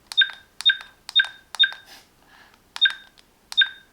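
A ZKCAMSPY HD 1080P car dash cam emits a series of short, sharp electronic beeps, six crisp tones in a fairly regular rhythm with a brief gap midway, clear and close against near silence.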